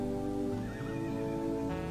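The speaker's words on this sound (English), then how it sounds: "I hear horses." Horses neigh in a video game, a sustained whinny heard over constant in-game ambient sound, lasting a couple of seconds with no talking.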